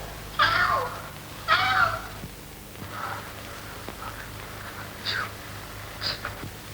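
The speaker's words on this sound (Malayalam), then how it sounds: "ഇതെന്താ ഈ പൂച്ച ഇങ്ങനെ നിങ്ങളുടെ പുറകെ?" A cat gives two clear meows close by, followed by several shorter, fainter mews over a quiet background.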